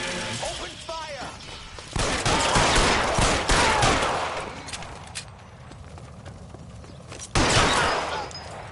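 A volley of gunfire breaks out in the LA Noire video game, starting as a sustained burst of shots, then fading before another loud blast near the end, with a voice heard briefly at the start.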